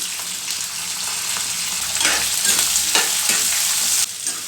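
Green chillies, onion and garlic fry in hot oil for curry leaf rice. A steady, close sizzle is broken by scraping stirs, and no voices are heard.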